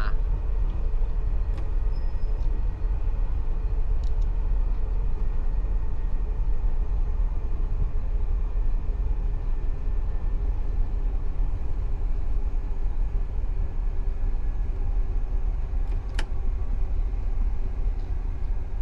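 Gatwick Express electric train running in Train Simulator 2020 between Gatwick and London Victoria, a steady low rumble and hum with faint tonal whine, continuous and even, with a few brief clicks.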